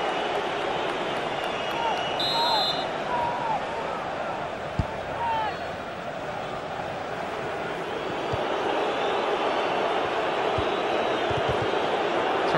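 A football stadium crowd at a Kayserispor versus Bursaspor match roars in a broad, steady wash, reacting to an offside call, with sporadic whistles and thuds rising from the din for about twelve seconds.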